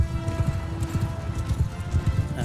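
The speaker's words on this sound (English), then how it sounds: "There's probably a horse running around." Horse hooves in the video game Mount and Blade II Bannerlord, a steady galloping clip-clop with low rumbling thuds, continuous and moderately loud throughout.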